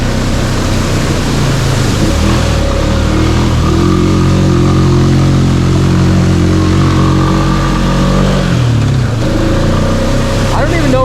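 A 2021 Honda Rubicon ATV on Outlaw2 tires runs with a loud, close engine drone that labours and bogs under load, the pitch dipping and then recovering, with a rider talking over it.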